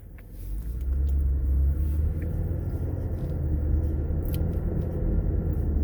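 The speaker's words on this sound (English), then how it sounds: "All right, so I'm gonna drive around." A car pulling away and driving at low speed, with a steady low engine and road rumble heard from inside the cabin after a quiet start.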